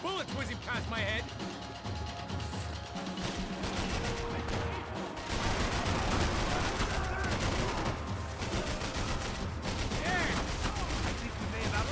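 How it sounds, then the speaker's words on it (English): Dense gunfight in Max Payne 3, with rapid gunshots and bullets whizzing past, loud and continuous throughout, layered with game effects and voices talking underneath. "I can't concentrate with bullets whizzing past my head!"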